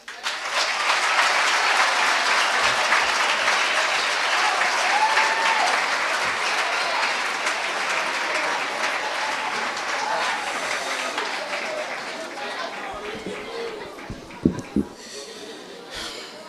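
Applause from an audience after a presentation at a school launch, broad sustained clapping that holds strong for about twelve seconds before thinning out, with a few scattered thumps and knocks near the end.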